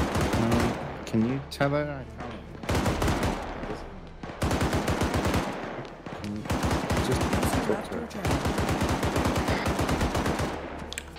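Heavy gunfire in ARMA 3 at a fired-upon outpost: rapid automatic bursts and single shots crackle loudly and almost without pause, broken by short gaps, while voices talk over the shooting.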